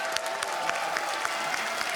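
A home crowd in a packed esports arena at the ESL One Katowice 2015 quarterfinal claps and cheers steadily throughout, a dense wash of applause with scattered louder claps and no pauses.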